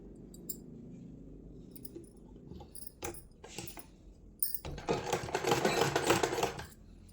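Sewing machine stitching the lining of a simple blouse: scattered light clicks and taps at first, then a louder, dense run of stitching near the end, close up with no talking.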